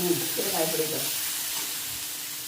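Mango curry with asafoetida is stirred in a frying pan, making a soft, steady sizzle and hiss close by, with a voice briefly heard at the start.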